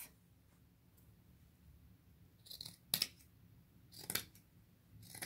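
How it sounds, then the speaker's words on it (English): Scissors cut a small fabric doily in half with a few quiet, crisp snips, heard close and alone against near silence. "I'm going to just cut it"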